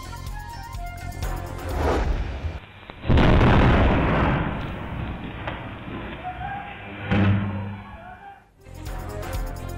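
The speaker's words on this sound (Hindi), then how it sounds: "आतिशबाजी का सामान बनाने वाली गैर कानूनी फैक्ट्री धमाके से जमीन बोस" CCTV footage of an illegal fireworks factory in Multan, near Delhi Gate, blowing up: a loud, sustained roaring blast with rumbling and crackling bursts over steady noise, and a second surge near the end.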